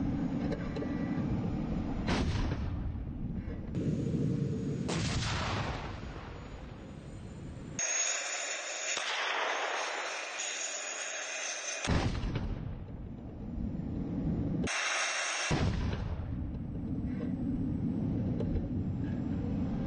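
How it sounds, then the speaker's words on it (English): A T-80BV tank fires its main gun in war footage from Ukraine, with several loud, broad booming blasts and rumbling engine noise in bursts across the scene, separated by brief gaps. "You can now see it firing."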